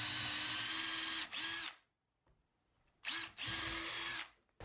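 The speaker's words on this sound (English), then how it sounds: "I'm going to go ahead and pre-drill a hole" A power drill whines steadily in two long bursts separated by a short pause, close and loud, with no voices.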